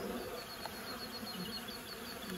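Honey bees buzz steadily around a hive in a rural countryside apiary, a dense continuous hum close by with no talking.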